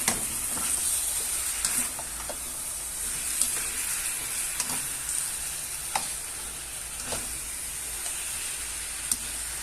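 Ingredients sizzle in hot oil in a pan and get stirred, producing a steady, close hiss broken by scattered clicks and scrapes, with no talking over it.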